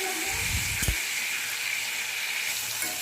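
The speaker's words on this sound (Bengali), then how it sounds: "গ্যাসের ফ্লেমটা বাড়িয়ে সবজিগুলোকে কনস্ট্যান্ট নাড়াচাড়া করতে করতে দু থেকে তিন মিনিট ধরে ভেজে নিচ্ছি" Pui stalk vegetables stir-fry in oil in a wok over a high flame, giving a steady close hiss and sizzle, with a brief louder burst of stirring near the start.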